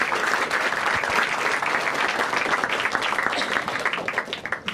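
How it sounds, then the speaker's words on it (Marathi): A stand-up comedy audience breaks into sustained, dense applause and clapping that fills the room evenly for the whole stretch, with no one talking over it. "ठीक आहे एकदा टाळ्या वाजवा दोघांसाठी."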